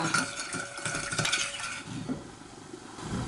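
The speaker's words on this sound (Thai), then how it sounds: "ยีสต์ค่ะ ผสมให้ยีสต์กระจายตัว" A utensil stirs yeast into salt and sugar in a bowl while mixing wholewheat bread dough, giving light clinking and scraping strokes that are close and irregular, with no voices.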